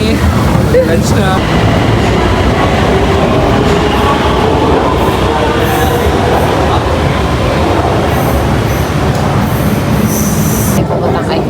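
A passenger train rolls through Thailand with a constant loud rumble and rattle from inside the carriage, with high wheel squeals near the end and faint voices in the background.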